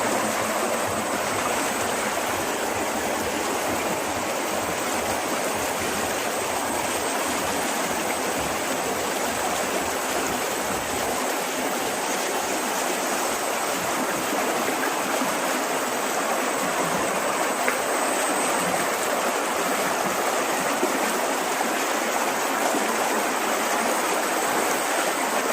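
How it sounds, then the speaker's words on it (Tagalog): Floodwater rushes loudly and steadily along a swollen river in the rural Philippine countryside, with bamboo debris from a landslide partly choking the flow, a dense unbroken roar filling the whole stretch. "Laki ang baha, laki."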